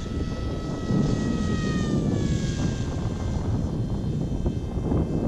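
A small FLYBOT Mini Race Wing RC plane flies overhead, its electric propeller motor giving a steady whine that climbs and falls in pitch as it passes at a moderate distance.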